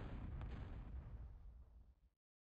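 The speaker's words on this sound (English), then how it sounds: "we got more bombing coming back on this side" Bombing explosions from a real-time strategy game match on the John's Pond map, a loud rumbling blast with sharp bursts that rolls on for about two seconds before cutting to silence.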